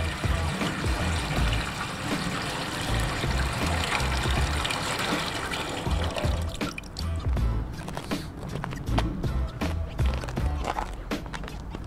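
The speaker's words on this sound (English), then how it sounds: "But all I'm gonna do is fill this up with a couple gallons of water." Several gallons of water pour and splash into a maple syrup boiling pan on a New Hampshire homestead, a continuous trickling wash with scattered drips and knocks toward the end, heard close and moderately loud.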